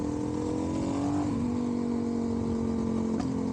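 Suzuki DRZ400SM motorcycle fitted with a 12-tooth sprocket accelerating, its engine holding a steady buzzing drone that drops in pitch at two gear shifts, moderately loud and close, with no voices.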